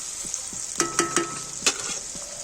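Spice paste sizzles steadily as it fries in a pan, with a few distinct scrapes and knocks of a spoon stirring it, close up and without talk.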